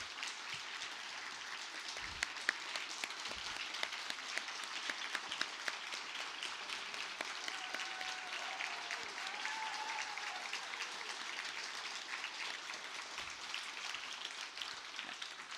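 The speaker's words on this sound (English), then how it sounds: "So can you please stand up, give a wave so people can applaud you." Audience applause in a conference auditorium, a sustained, fairly distant patter of many hands clapping that holds steady for the whole stretch, with occasional louder individual claps.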